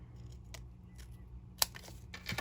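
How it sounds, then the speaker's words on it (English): Scissors snipping through black cardstock, a few faint cuts with one sharper snip near the end over quiet room noise. "gonna snip this because it is a little difficult with the black"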